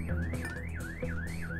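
A car alarm in the video game Klepto wails in a rising, repeating siren sweep, cycling about every half second, steady and fairly loud with no voices.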